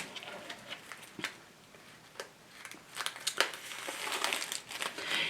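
A plastic package is crinkled and torn open up close, with irregular sharp crackles and rustles that grow denser and louder toward the end, with no talk.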